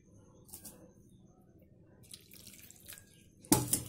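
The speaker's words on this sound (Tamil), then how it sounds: "இது நல்லா தண்ணி ஊற்றி நல்லா இதை வாஷ் பண்ணி எடுத்துக்கோங்க" Tap water runs in a kitchen sink while green grapes are washed, a soft steady trickle with brief splashy bursts and a louder gush of flowing water near the end, no talking.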